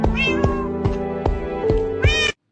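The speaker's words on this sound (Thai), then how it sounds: "เฮ้ยนั่นมันแมวนี่หว่านี่จับหน่อยดีกว่า" A cat meows repeatedly, about five close, loud calls in an uneven rhythm, some drawn out and wailing, with no voices over them.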